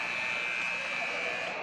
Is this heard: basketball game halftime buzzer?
yes